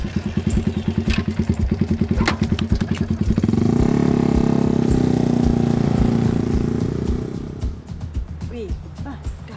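A motorcycle ridden by a Chinese boyfriend chugs close by with a steady idling putter, then swells into a louder sustained engine drone before easing off, with a few clattering thumps. People talk over it.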